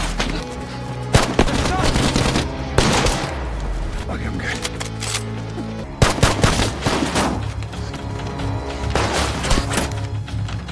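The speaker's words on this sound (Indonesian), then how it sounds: "Kemudian Sam pun membawa Tessa keluar dengan dibantu oleh tembakan perlindungan dari Joey." Gunfire in an action film as a besieged group shoots covering fire, dense bursts of rapid shots and single cracks in clusters separated by brief lulls, loud and close, with a narrating voice over the top.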